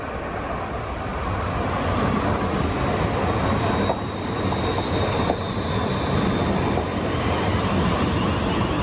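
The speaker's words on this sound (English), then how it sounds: "here's the first train" A train bound for Northampton rolls past a long station platform on the West Coast Main Line, its rumble loud and continuous. Wheels click and squeal faintly as the carriages go by, with no voices.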